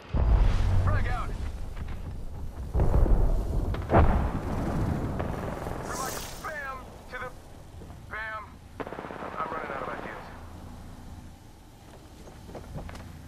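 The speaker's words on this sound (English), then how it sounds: "Shots fired and they're hitting me." Rapid video game gunfire and booming grenade blasts roll through the scene in loud, dense bursts. Chirpy electronic effects and a voice come through between them.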